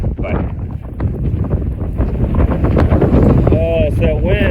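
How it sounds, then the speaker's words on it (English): Strong outdoor wind buffets the microphone with loud, continuous low rumbling and gusts. A voice is heard faintly under it. "Oh, it's that wind."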